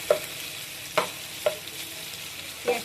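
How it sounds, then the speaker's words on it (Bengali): Chopped onions frying in oil until reddish, a soft continuous sizzle broken by four distinct scrapes of a spoon stirring the pan at uneven intervals, close and fairly quiet, with no voices. "পেঁয়াজটা আমি একটু লাল লাল করে ভেজে নেব।"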